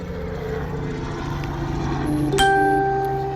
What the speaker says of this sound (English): let the helicopter pass.